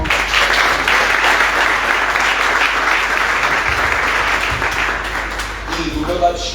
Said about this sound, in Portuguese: Pode aplaudir a vida do irmão?